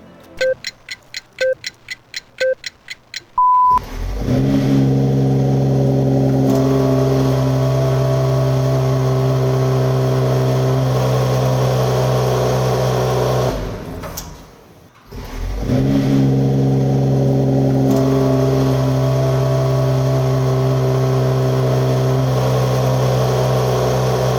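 A Mercedes-AMG E53 4MATIC coupe's six-cylinder engine barks to life through its twin dual exhausts after a few faint ticks, then settles into a loud, steady idle that dips briefly before rising again, with no talking.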